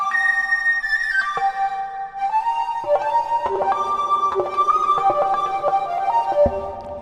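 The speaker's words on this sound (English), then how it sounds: "It's not a sine wave. It's actually a triangle wave." A smooth, hollow synthesizer triangle-wave tone, in a lush flute patch, plays a wandering melody of held and stepping notes over soft noisy texture, without any voices.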